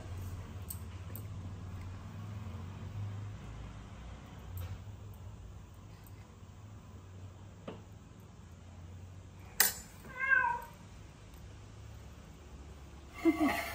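A cat gives two short meows, the first wavering and the second brief, near the end of a quiet kitchen scene where chicken pulao has just come out of a pressure cooker, with faint clinks and clicks earlier.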